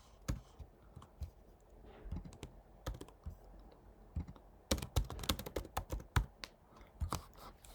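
Someone types C++ code on a computer keyboard: close, quiet, irregular key clicks, sparse at first and then a fast dense burst of taps toward the end, with no talking.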